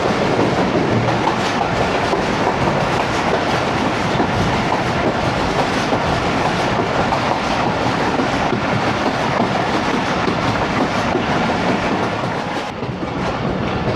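The 13UP Awam Express rolls into Peshawar Cantt station with a loud, steady roar of wheels and rhythmic clickety-clack from the carriages, heard from on board without any talking.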